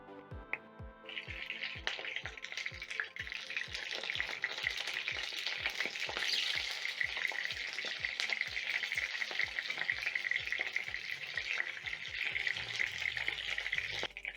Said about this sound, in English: you're going to carefully place in your smokies into the cooking oil and shallow fry for around 1 minute per side